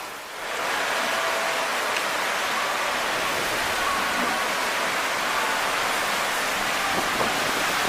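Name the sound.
heavily flowing floodwater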